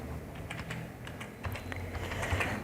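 Fingers type on a computer keyboard while entering products into an Access form, a quiet run of irregular clicking keystrokes with no one speaking.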